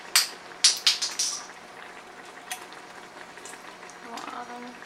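Strawberry topping with lemon and vanilla extract simmering in a pan, with a few sharp clinks from a utensil early on, then a soft steady bubbling and sizzle that stays faint.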